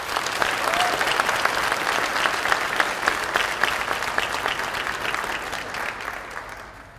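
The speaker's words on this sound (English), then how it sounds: "Let's give this group of students another round of applause." A hall audience at a career and technical education awards program gives students a loud, dense round of applause that holds steady, then tapers off near the end.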